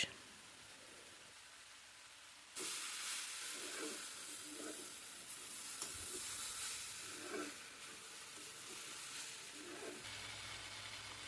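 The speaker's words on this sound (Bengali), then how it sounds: "আবারও সুন্দর করে আমি এগুলো নাড়তে থাকব" Vegetables for a roll filling are stirred in a hot pan, where a sudden steady sizzle and hiss sets in and runs on with soft, irregular scrapes of the spoon underneath.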